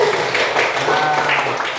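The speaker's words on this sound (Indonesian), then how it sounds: "Beri tepuk tangan buat Pandu." A classroom of students clapping for a classmate, a short, close burst of scattered applause mixed with a few voices murmuring.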